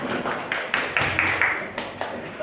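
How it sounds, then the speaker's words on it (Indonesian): A classroom gives applause for classmates after their presentation, a short burst of a few people clapping, moderately close, with some rhythmic claps and nearby voices underneath. "tepuk tangan aplaus buat teman kalian"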